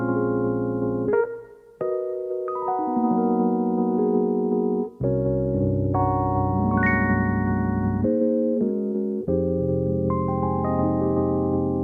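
Dreamy psychedelic music sample from an album intro: layered sustained synth-like tones shifting through chord changes, with a brief dip and a bright high swell midway, playing alone at steady loudness.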